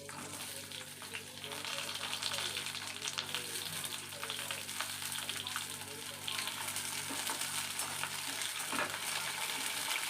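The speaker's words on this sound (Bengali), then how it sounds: "পটলগুলো ভালো করে ভেজে নেব" Pointed gourd (potol) frying in oil in a wok after chillies and garlic, giving a steady, dense close sizzle with occasional stirring scrapes and no talking.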